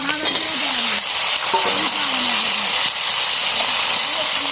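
Cut taro stolons (lati) going into hot oil with a spice tempering in a Bengali home kitchen, giving a steady loud hiss and sizzle with a few clinks, while a voice talks over it.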